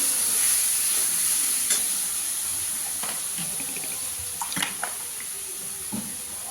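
Masala with cumin and coriander powder frying in a pan, where added water makes it hiss and sizzle continuously, with occasional scraping stirs and small clinks close by.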